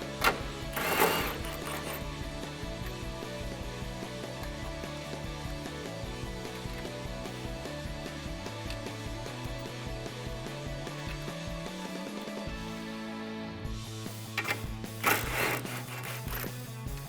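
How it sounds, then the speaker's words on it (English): Impact gun with a 17mm deep socket rattling off strut tower brace bolts on a 2015-2017 Mustang GT, a steady mechanical whir lasting most of the clip, with sharper bursts near the start and end. "Grab your 17mm deep socket and your impact gun and remove the 2 bolts on each side"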